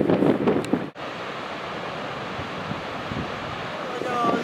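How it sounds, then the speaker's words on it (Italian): Skógafoss waterfall in Iceland, heard as a broad, steady rushing roar of falling water with wind buffeting the microphone, a brief dropout near the start, then continuous loud noise. "La cascata di Skógafoss."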